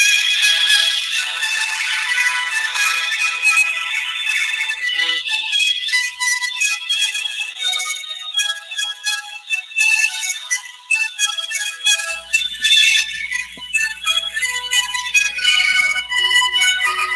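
An outgoing phone call ringing on the line before voicemail picks up, a steady series of bright electronic ring tones repeating for several seconds, moderately loud, with no talking over it.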